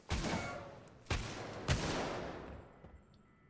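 Gunfire hitting a metal locker in the video game Alien Isolation, three loud, sharp shots about a second apart, each followed by a ringing decay that fades into quiet.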